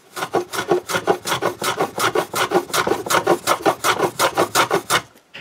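Rasp working across the bottom edges of wooden chaise longue legs to chamfer them, about twenty steady back-and-forth strokes in an even rhythm, close and clear with no talking.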